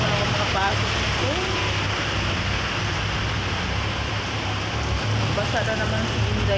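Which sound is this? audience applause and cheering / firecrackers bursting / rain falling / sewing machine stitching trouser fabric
rain falling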